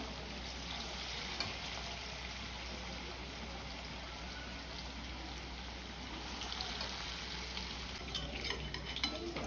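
Manchurian balls frying in a pan and being turned over, a steady low sizzle with faint scraping and utensil clinks, heard without any talk.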